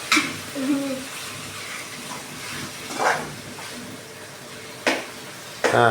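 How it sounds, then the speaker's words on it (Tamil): Water pours and splashes into a cooking pot in a home kitchen, coming in a few hissing bursts with short clatters between them, moderately close. "அடுத்து குண்டாகிறப்ப தண்ணி ஊற்றணும்."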